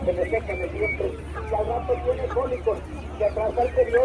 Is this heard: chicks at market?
yes